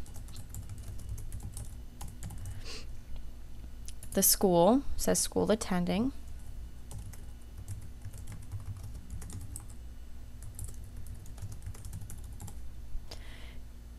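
Someone types on a computer keyboard while filling in a student's details on a school report form, with a steady patter of clicks that continues beneath speech.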